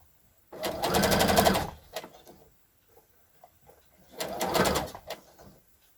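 Sewing machine stitching a trapeze dress in two short bursts of rapid, close mechanical chatter, separated by a pause with small handling clicks.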